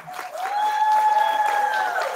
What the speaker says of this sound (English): So how about a big round of applause for the parents here?